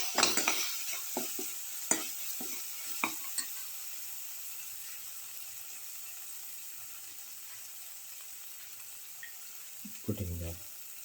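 A garlic lemon lamb casserole is stirred in a pan: a few scraping spoon strokes over a steady high sizzle early on, then mostly continuous frying hiss, with a brief clatter near the end.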